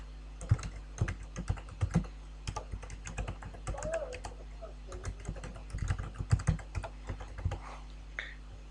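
Keystrokes on a computer keyboard as an IT admin enters an NT account name and password, a fast irregular patter of close clicks in bursts with brief pauses, over a steady low hum.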